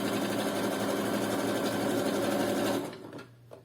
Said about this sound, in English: Press your foot down, and we're gonna sew.